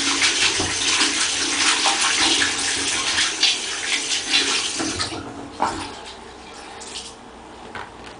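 Running tap water pours steadily over a pin site of an external fixation frame during rinsing, loud and close at first, then tapering to quieter splashes and trickles.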